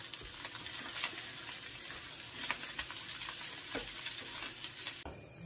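Fried rice stirred in a pan, a steady close sizzle with scraping strokes of the utensil against the metal, continuous and without voices.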